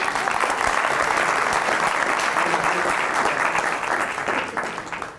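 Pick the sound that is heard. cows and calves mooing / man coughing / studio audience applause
studio audience applause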